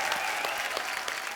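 Studio audience on a TV comedy show clapping for a choreographer's entrance, a dense continuous wash of applause with a few sharper individual claps standing out.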